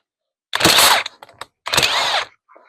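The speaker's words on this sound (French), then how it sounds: "je vais faire à la clé à choc, ça ira bien mieux" Impact wrench loosening a part on a Zetor tractor's hydraulic distributor: two loud, close bursts of rapid hammering, each about half a second long, with faint clinks between and after.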